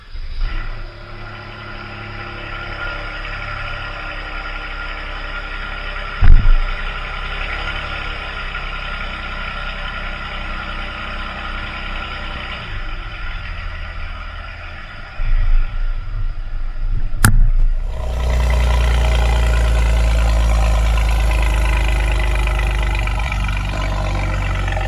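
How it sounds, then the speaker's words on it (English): A Mercedes-AMG GLE43 with a bi-turbo six-cylinder engine idles with a steady exhaust rumble, gives a brief blip, then revs louder and holds a deeper, fuller drone near the end. "the exhaust sounds pretty good for a bi-turbo 6"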